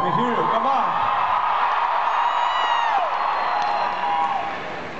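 A large concert crowd in Buenos Aires screams, whoops and cheers loudly for a cello duo, a dense sustained roar with shrill individual shouts.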